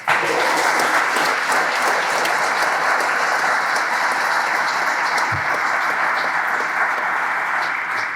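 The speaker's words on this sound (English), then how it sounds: "how about a round of applause for the..." An audience applauds at a National Guard change of command and retirement ceremony, with steady, dense clapping that holds loud and even for several seconds.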